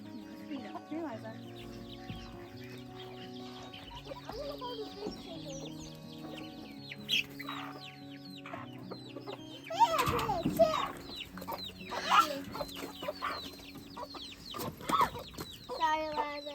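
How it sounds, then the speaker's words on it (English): Chickens cluck and murmur softly while pecking at scraps, with scattered nearby clucks growing busier midway; children's voices talk quietly in the background throughout. "we'll take the scraps to the chickens"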